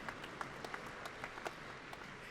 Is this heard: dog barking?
no